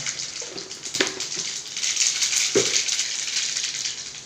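A steady hiss of mustard seeds sizzling in hot oil, broken by a few sharp pops, with no talking.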